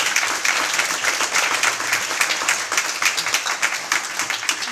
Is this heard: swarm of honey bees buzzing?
no